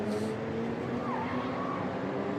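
Race cars in the Ginetta GT Academy at Donington Park crossing the timing line, a loud engine roar sweeping past with a pitch shift.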